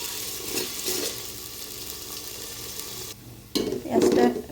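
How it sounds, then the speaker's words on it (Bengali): Chopped onions frying in hot oil for egg pulao: a soft steady sizzle with stirring and a brief clatter of a pan, heard alone. "তেলটা গরম হয়ে গেছে, দিয়ে দেবো পেঁয়াজ কুচিগুলি। ভাজি করে নেব পেঁয়াজটা।"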